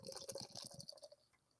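Beer is poured into a glass, a brief close fizzing and gurgling stream with foamy crackle that settles down after about a second.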